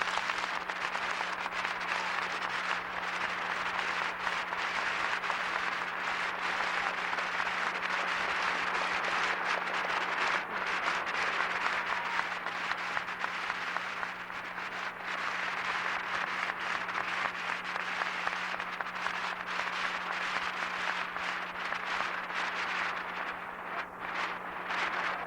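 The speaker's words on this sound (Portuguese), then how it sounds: "todos podemos saudar o Alfredo e o Nonato com uma grande salva de palmas" A church congregation applauds after a priestly ordination rite, a steady, dense wash of many hands clapping that fills the whole stretch at even loudness and fades only slightly near the end.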